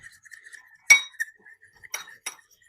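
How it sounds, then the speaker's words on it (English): Egg and cream being whisked for an egg wash in a bowl, giving sparse, light metallic clinks and taps against the bowl at close range, with brief quiet gaps between them. "Just mixing it up until it's just nice and mixed."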